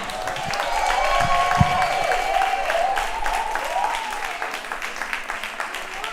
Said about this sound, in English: Y'all keep clapping for Preach, AKA AJ, AKA Country Boy, AKA Bhutan.